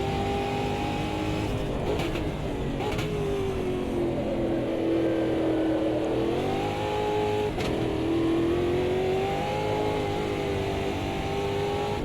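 A 2024 stock car engine in Automobilista 2 drones loudly and steadily, its pitch rising and falling as the throttle lifts and reapplies through corners, with no talk over it.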